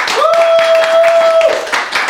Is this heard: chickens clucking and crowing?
no